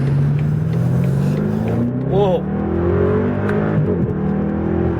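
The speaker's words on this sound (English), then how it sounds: "this thing's able to push out 400 plus horsepower out of the V8 engine" A car with a 400-plus horsepower V8 and xDrive all-wheel drive accelerates hard, its engine note climbing steadily and loudly up close, with a brief shift pause and a short exclamation from someone inside.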